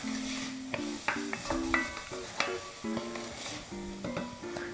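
Softening vegetables sautéed in a pan with salt and pepper, stirred with a series of quick clinking and scraping strokes over a soft sizzle, close by and without speech.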